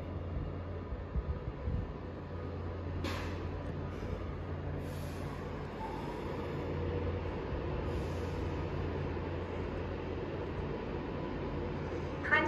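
A Class 390 Avanti West Coast electric train pulls out of Platform 1 at London Euston, a low steady rumble and hum under station ambience with a few brief high squeals, no talk.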